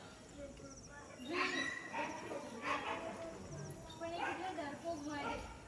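A dog barks a few times, yipping between bursts, while people talk nearby.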